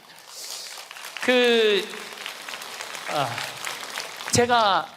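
An audience claps steadily at a Korean Catholic priest's lecture on happiness, a dense, even patter running beneath a man's loud, close speech throughout.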